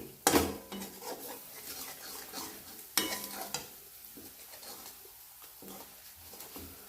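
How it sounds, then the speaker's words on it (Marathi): Spices such as turmeric, mutton masala and red chilli powder roasting in oil in a pan over low heat, stirred in two scraping bursts of a spoon against metal with a soft sizzle underneath. "कमी गॅसवरच मसाले चांगले भाजून घ्यायचे"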